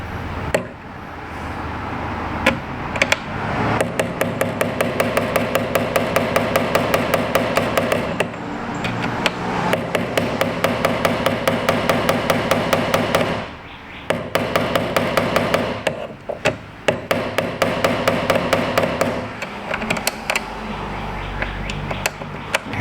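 Loud rapid hammer blows on an Allen wrench seated in a rusty socket head screw, close metallic strikes in long fast bursts with brief pauses between runs.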